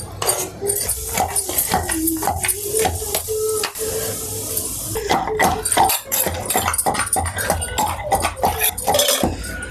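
Gongura chutney mixed by hand in a stone mortar with salt, giving busy clattering scrapes and knocks in quick irregular bursts, close and loud, and no talking.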